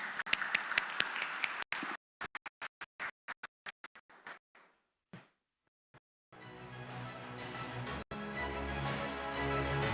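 Applause for the panel at an agricultural coalition conference, starting as scattered, isolated claps with pauses between them, then growing into steady, full applause mixed with music toward the end.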